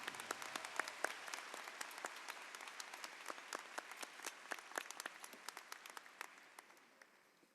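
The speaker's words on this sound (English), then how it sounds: "If you could give them a round of applause and thank them for the work that they did today" Graduation audience applauding student speakers at a high school commencement, a steady wash of many hands clapping that carries on evenly and tapers slightly toward the end.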